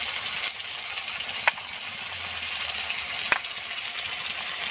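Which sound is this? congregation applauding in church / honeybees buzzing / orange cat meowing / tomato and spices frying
tomato and spices frying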